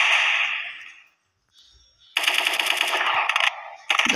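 AK rifle gunfire in the shooter game Special Force 2, a loud near burst of rapid automatic shots after a short quieter lull, then a second burst starting at the end.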